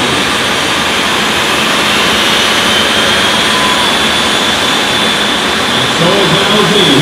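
A 50-caliber jet dragster's turbine engine lights and fires at a Burndown at Sundown drag racing event, a loud, steady, roaring jet blast that fills the whole stretch without a break.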